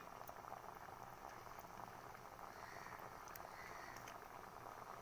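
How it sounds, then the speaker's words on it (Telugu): Fish pulusu, a tangy Telugu fish curry sweetened with a small piece of jaggery, simmers in a pot with a soft, steady bubbling and crackle, quiet and unbroken with no talk. "ఒక 10 మినిట్స్ మరగనిద్దామండి పులుసుని."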